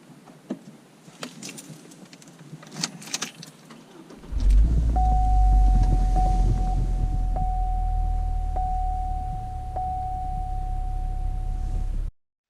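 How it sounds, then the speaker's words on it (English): A Hummer H3 engine cranks and starts after a few seconds of quiet clicks, then idles with a loud, steady low rumble and a faint whine until it cuts off abruptly at the end. "Start the vehicle."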